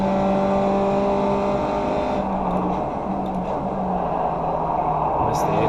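Race car engine in the iRacing sim at Circuit Park Zandvoort, steady loud drone climbing in pitch as it accelerates out of a corner, continuous and close throughout.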